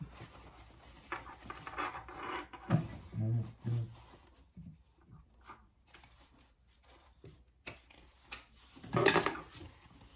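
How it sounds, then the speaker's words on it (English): Pinking shears trimming fabric for a small crossbody phone bag, a series of crisp, close snipping and crunching cuts at uneven intervals, with some handling rustle between them. "I am also gonna use my pinking shears to trim that"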